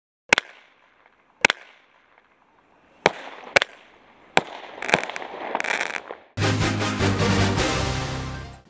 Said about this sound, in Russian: Осталось надежно установить фейерверк, зажечь фитиль на расстоянии вытянутой руки и отойти на безопасное расстояние